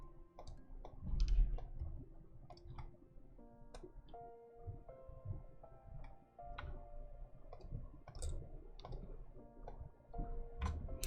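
A computer mouse clicks again and again during pixel-art map work for a game, sharp, light clicks scattered unevenly across several seconds over soft, steady background music.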